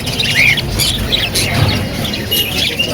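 Adult exotic pet birds at the Shrirampur pet market give harsh squawks and sharp chirps, some close and loud, over a constant busy market hum.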